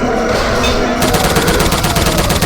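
Rapid automatic video game gunfire hammers out in a fast, even stream of close, loud shots, starting abruptly after a second of lower background noise and continuing without pause.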